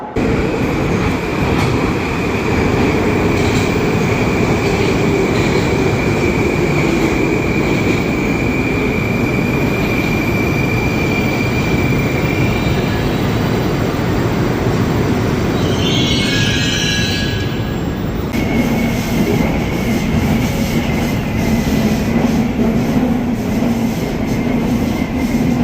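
A Moscow metro train rolls through a tunnel with a steady, loud roar and rumble, wheels and carriage noise constant throughout, a rising whine and brief change partway as the car sways along the track.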